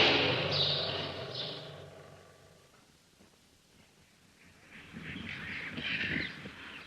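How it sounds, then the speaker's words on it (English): Large Quaker parakeets calling from a cage, a loud chattering of high squawks at the start and again near the end, with a quieter stretch between. "we're just passing a cage with some birds called Quaker parakeets, which are simply enormous, and they make quite a lot of noise"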